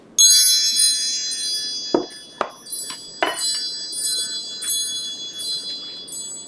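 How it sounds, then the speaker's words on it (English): Wind chimes ring out in a long shimmering cascade of bright metallic tones, struck again at several points to add fresh clusters of ringing, sounding close and fairly loud with no talking. "Let's call in Spirit with some wind chime chime."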